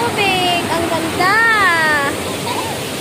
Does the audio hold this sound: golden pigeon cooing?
no